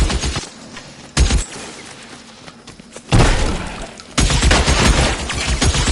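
Bursts of gunfire from the L.A. Noire video game, loud heavy volleys arriving in waves with rapid shots and crashing impacts, separated by brief lulls of lower rumble.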